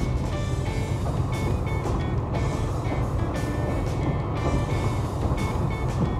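Inside the limited express Sarobetsu running at speed on the Soya Line in autumn, a steady rumble of wheels and motor carries a faint whine and periodic clicks.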